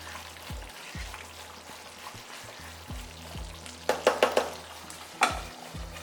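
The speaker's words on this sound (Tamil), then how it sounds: "ஸ்லோ ஃப்ளேமில் வச்சிடலாம் கொதிச்சுக்கிட்டு இருக்கட்டும்" Thick egg gravy simmers in a pan on a slow flame, giving a soft bubbling hiss broken by a quick burst of wet plops and a later single pop, over a faint rhythmic background beat.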